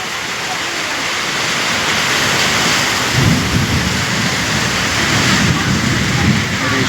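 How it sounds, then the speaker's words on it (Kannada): Heavy rain pours down steadily in a continuous loud hiss while low thunder rumbles in around the middle and rolls on to the end, with no voices over it. "ಶಬ್ದ ಗುಡುಗು ಮಿಂಚು ಬಂತು ನೋಡಿದ್ರ"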